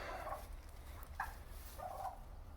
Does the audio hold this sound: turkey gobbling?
yes